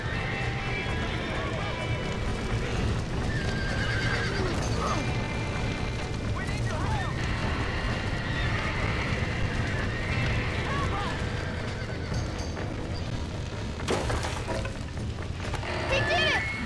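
Horses neighing and clip-clopping hooves in the Red Dead Redemption video game, running hoofbeats and whinnies under a continuous mix of game noise, with a voice talking over it.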